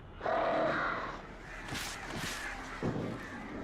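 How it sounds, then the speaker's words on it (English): Crows caw in Alan Wake Remastered, several harsh calls bursting out one after another, fairly close and loud over a low game ambience, with a few thumping steps near the end. "More crows."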